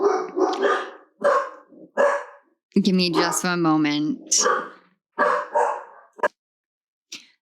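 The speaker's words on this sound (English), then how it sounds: "Sorry about the barking, guys." Dogs bark in short bursts between stretches of a woman's speech, the barks loud and close, with a few brief sharp yips near the end.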